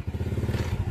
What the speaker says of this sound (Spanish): Aparte estaba haciendo ruido con la moto, un quilombo bárbaro.